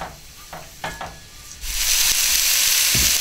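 Vegetables, onions among them, are stirred into hot rippling oil. A few light clicks and knocks lead into a sudden loud, steady sizzle that continues to the end.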